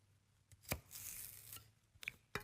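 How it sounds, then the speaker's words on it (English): A knife chops celery on a cutting board in a few sharp, separate knocks spaced irregularly, close and quiet, with faint kitchen rustle between strikes and no talking. "Just chopping up some celery, and I can't seem to get my cuts going this morning."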